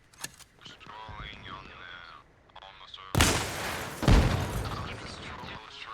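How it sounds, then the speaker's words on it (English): Arma Reforger military game combat: frag grenade explosions and gunfire, two heavy booming blasts in the second half after lighter sharp shots and rumbling, fairly close and loud. "A couple of quick frags to finish off the last of the US soldiers."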